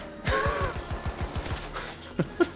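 Rapid gunfire from a slow-firing weapon in the video game Battlefield 2042 Portal gun game mode, a string of about ten sharp shots in quick rhythm, then a gasp and two short vocal bursts after the shooting stops.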